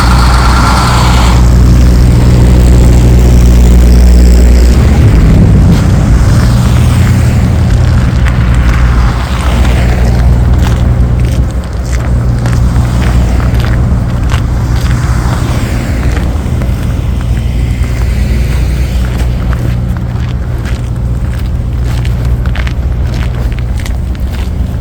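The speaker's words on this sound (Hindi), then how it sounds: "रश टाइम है इस वक्त, ट्रैफिक आपको नज़र आ रही होगी।" Rush-hour road traffic in Winnipeg on a freezing-rain day, a steady loud rumble of car and heavy truck engines idling and rolling past nearby, with no talk over it.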